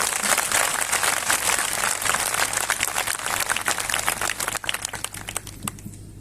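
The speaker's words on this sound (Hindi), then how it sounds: "जोर से ताली जाके ऐसे खुदा के लिए धन्यवाद।" A congregation at a Christian fellowship convention in Umarpata, 2023, claps loudly and thickly for several seconds before the applause thins and scatters toward the end.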